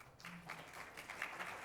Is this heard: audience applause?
yes